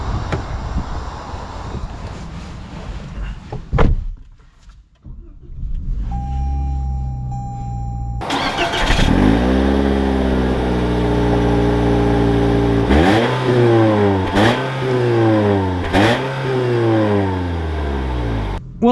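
A 2021 Toyota Corolla XSE hatchback with a manual gearbox starts up and idles, then drives off loudly, the engine revving up and down through repeated gear changes, close and alone.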